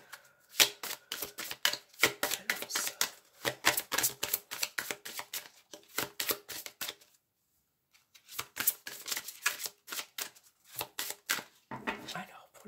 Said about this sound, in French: Alors, je vais mélanger quand même un petit peu.